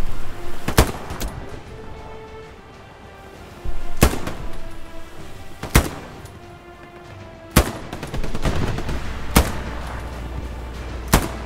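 M1 Garand rifle shots in the Hell Let Loose video game, about half a dozen loud, sharp single reports spaced a second or two apart, with quieter distant gunfire and a low background between them.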